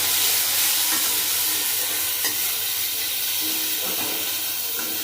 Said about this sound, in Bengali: বেগুনগুলো ভালো করে ভেজে নেব তারপরে হলুদ দেব একটু